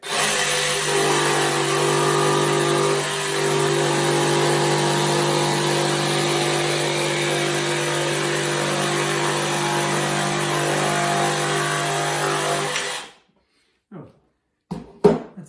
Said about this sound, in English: keep the jigsaw firm down on your piece of timber